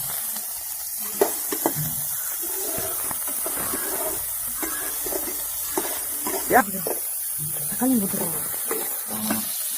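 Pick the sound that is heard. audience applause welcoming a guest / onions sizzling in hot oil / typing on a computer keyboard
onions sizzling in hot oil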